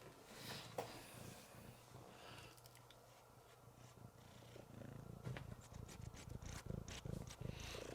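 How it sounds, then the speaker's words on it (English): A large orange cat purrs softly up close, giving a low rumble broken by short sniffing snorts as it noses around wires, faint and intimate, no talk. "You are an orange cat. And you are large."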